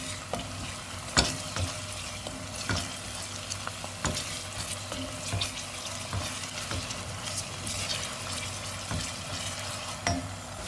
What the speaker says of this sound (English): So my garlic and my minced garlic, ginger, and my onions are getting ready.